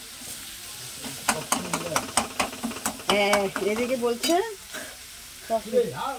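Onions fry in oil with a loud bubbling sizzle and rapid sharp spatters, while someone talks over the cooking in short bursts.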